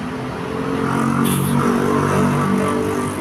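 A bus engine runs steadily and fairly loud as the coach pulls into the departure lane at a busy bus terminal pool in Tasikmalaya, with a rising rev and hiss midway, no talk.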